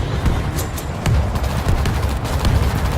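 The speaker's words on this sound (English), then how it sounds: "Grenade out!" Gunfire and a grenade blast in the zombie shooter World War Z: a dense, steady barrage of shots with a couple of heavier booming hits, loud and close, with no talk over it.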